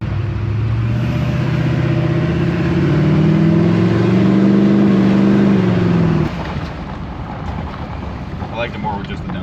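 An LBZ Duramax diesel truck with a 5-inch exhaust to a bed stack revs hard, holding a loud, deep rising drone before dropping to a rough idle, with wind buffeting nearby.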